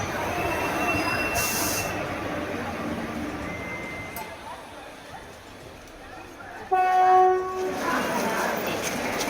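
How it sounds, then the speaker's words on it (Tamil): Busy Tambaram railway station ambience in Chennai with train wheels screeching on rails, a brief horn-like tone, and murmuring crowd voices underneath, fairly loud throughout. "சென்னை தாம்பரம் ரயில் நிலையத்தில் அலைமோதிய பயணிகள் கூட்டம்."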